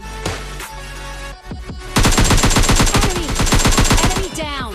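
S12K shotgun gunfire in the mobile game PUBG Lite: a few separate blasts, then a rapid, loud, sustained burst of shots, with faint game sounds between and after.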